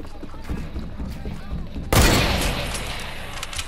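A single sharp, loud gunshot fires in the Fortnite video game, with a booming tail that decays over a second. A player is talking in the stretch just before the shot.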